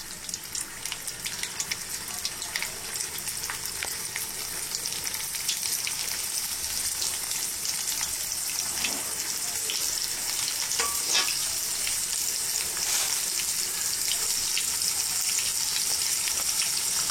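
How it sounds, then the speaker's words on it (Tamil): Banana flower cutlets deep frying in hot oil, a steady dense sizzle and crackle running throughout, with occasional soft clinks of a utensil and no talking. "கட்லெட் பீசஸை எண்ணெயில் போட்டு பொரித்து"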